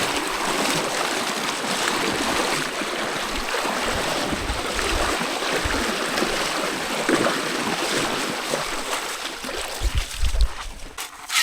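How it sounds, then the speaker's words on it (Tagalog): River current rushes and churns steadily against a raft hauling sand, a dense, continuous wash of moving water that swells slightly near the end, with no talking. "Hampas ng agos."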